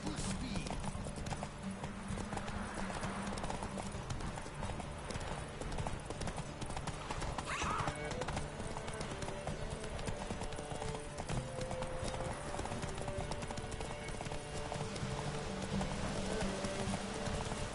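A horse galloping in the video game The Witcher, rapid continuous hoofbeats pounding steadily throughout over a dense game soundscape, with faint voices and snorts mixed in.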